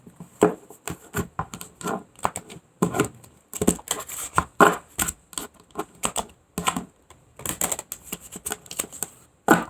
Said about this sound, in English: I'm going to cut and we're going to go for what's on the bottom of the deck